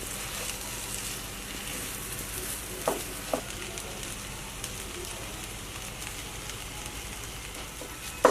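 Vegetables for aloo bharta frying over a low flame give a faint, steady sizzle, broken by a few soft clicks and stirring knocks, with no voices.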